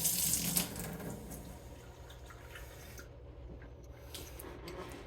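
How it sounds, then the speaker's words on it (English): Kitchen tap running warm water into a sink or cup: a steady hissing stream with splashing that starts strong, settles into a continuous even flow and carries on alone. "I'll then run some water, get it warm"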